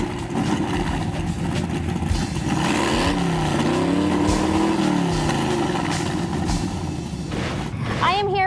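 A street rod's engine idles and revs at an outdoor car show, a steady rumble with a brief rise in pitch midway, voices and crowd noise around it.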